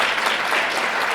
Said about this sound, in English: Yes, clap it up, clap it up.